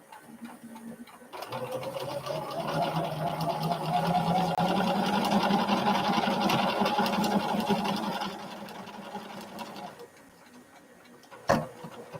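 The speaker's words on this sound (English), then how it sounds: "So let's sew those together." A sewing machine runs for several seconds, stitching quilt fabric pieces together in a rapid, even whir, then slows and stops, followed by a brief sharp click and quiet.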